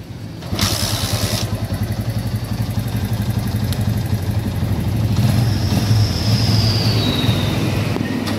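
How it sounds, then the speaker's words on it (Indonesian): A Honda Megapro motorcycle with an engine that cuts out when the headlight is switched on runs with a steady, close, rumbling idle that holds throughout, with a faint whine rising midway. "Katanya kalau lampu dinyalakan tuh motornya mati ya. Coba kita tes dulu nih. Nggak bisa starter juga."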